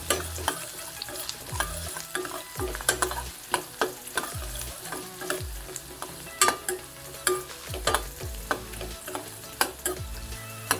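Onions, urad dal, mustard seeds and dried chillies fry in a pan for mor kuzhambu, a soft sizzle under repeated scraping strokes and knocks of a spoon, close and fairly regular.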